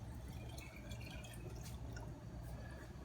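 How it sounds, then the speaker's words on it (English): Filtered water trickles and drips into an espresso maker, faint and close over a low background hum, with no talking. "first of all, filtered water in the espresso maker."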